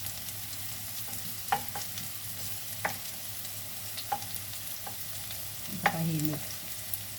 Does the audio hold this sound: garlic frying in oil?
yes